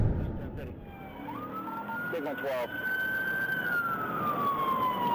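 A police cruiser siren wails and sweeps up and down during a pursuit, heard from inside the car over road rumble, with radio chatter briefly over it.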